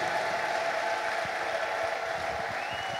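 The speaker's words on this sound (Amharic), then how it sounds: "እንደገና ቆማችሁ ለእግዚአብሔር እልልታና ጭብጨባ ስጡ።" A standing church congregation claps steadily for God while a high sustained ululation rides over the crowd, dense and continuous throughout.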